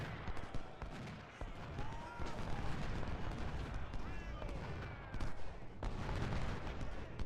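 Massed musket volleys and artillery booms from the Ultimate General: Civil War video game on a Civil War battlefield. Crackling gunfire rolls continuously, punctuated by heavier blasts and a few whistling shells.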